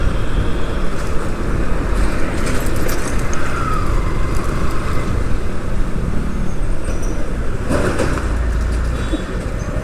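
Dense Dhaka city street traffic where motorcycles and auto-rickshaws run constantly: a steady, loud, close roar of engines and road noise that never lets up, with a brief louder vehicle pass near the end.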